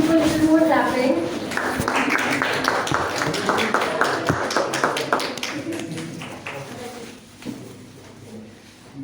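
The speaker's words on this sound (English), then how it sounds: "we can do a little more clapping." Scattered audience clapping at a college education conference, a loose run of sharp hand claps that thins out and fades, heard alongside a speaking voice.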